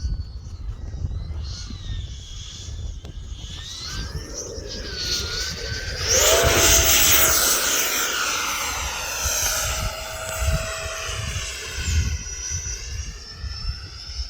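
An E-flite 80mm F-16 RC jet with an electric ducted fan whines past on a half-flap touch and go, its pitch sweeping and swelling loud midway, then fading into the distance over steady outdoor wind rumble.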